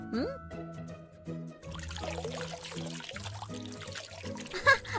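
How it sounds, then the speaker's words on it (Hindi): Water being poured onto potted plants in an animated children's lesson, a trickling pour heard under background music. "ओहो, तो चलो अभी उन्हें पानी देते हैं।"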